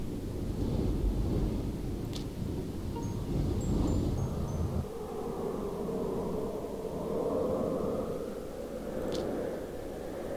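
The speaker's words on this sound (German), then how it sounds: "Stormtalon, Prinz unter Elementaren, antwortet auf deinen Ruf nach Blitz und Donner." A deep, rolling thunder rumble from a spell in the video game Ghost Master, with a steady rush of wind-like noise, loud and continuous, with a brief higher crackle near the start.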